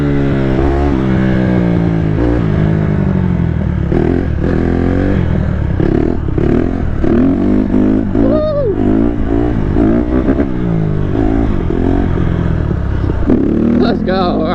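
A Honda CRF150RB dirt bike is ridden flat out at about 63 mph. Its engine gives a loud, steady drone close up, with pitch rising and dipping as it shifts and revs, and wind noise throughout.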